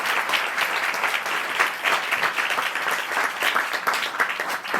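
Loud, sustained applause from a church congregation during a Hindi and Punjabi prayer service, dense steady clapping filling the whole stretch with no break.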